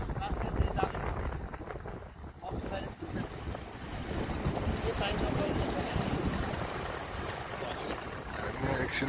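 Strong wind gusts over a bridge in the rain on a mountain road trip from Baglung toward Muktinath, a dense, continuous roar of buffeting air and rumble that stays loud throughout.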